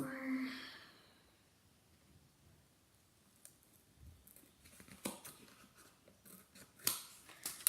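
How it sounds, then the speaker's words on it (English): Scissors snip through material for a homemade Wild Kratts costume, several quiet, irregular cuts close by after a soft breathy sound at the start. "I'll need to cut a little bit more"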